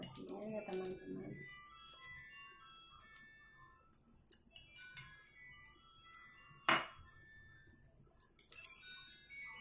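Cooked rice goes into a pan for Thai-style Pattaya fried rice, bringing faint metallic clinks, taps and scrapes of utensils against cookware, with someone talking over the quiet kitchen sounds.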